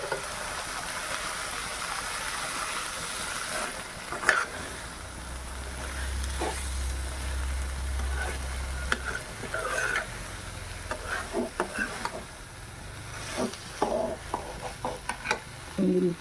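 Boiled, salted green gram fries and stirs in hot oil, a soft continuous sizzle with scraping and clinks of a spoon against the pan, steady underneath and punctuated by brief sharper knocks near the end.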